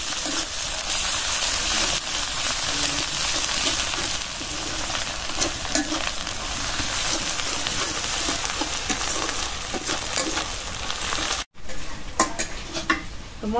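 Spices frying in oil in a pan for a deshi koi fish curry, a loud continuous sizzle with stirring scrapes throughout, close up, with a brief dropout near the end.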